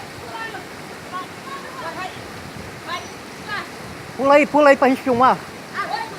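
The Corocochó waterfall at Piabetá, Rio de Janeiro, gives a steady rushing wash of falling water throughout, with people talking and calling out over it.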